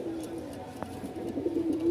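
Caged pigeons coo softly and continuously at close range, with a brief faint click partway through.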